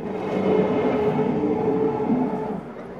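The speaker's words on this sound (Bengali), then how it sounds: "ট্রেন যাচ্ছে এখন ফুল স্পিডে," A train rushes past at speed, a loud sustained roar with rumbling wheels that swells and then begins to ease off.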